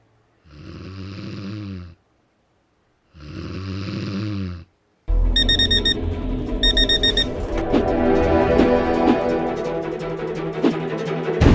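An alarm clock rings with rapid repeated electronic beeps, loud and close, following two long snoring breaths in a quiet room, then continuing amid clattering sounds.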